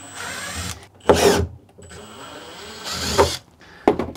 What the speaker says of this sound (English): I need to get the drill going